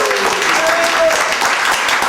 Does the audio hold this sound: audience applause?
yes